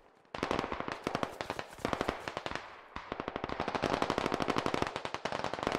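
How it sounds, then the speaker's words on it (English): Sustained suppressive automatic gunfire in the military shooter game Squad: dense, rapid bursts of loud machine-gun shots run almost continuously after a brief quiet start, with a short break near the middle before firing resumes. "Just a bunch of suppressive fire."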